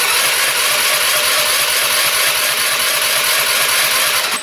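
A $50 scooter's motor runs steadily with the throttle held open and the brake on, a loud continuous whir with a faint rattle and no voices, then it cuts off at the end.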